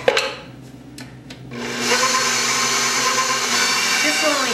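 An electric mixer whisks a quart of heavy whipping cream for frosting, its loud steady whir starting after a few short bursts and running continuously and close.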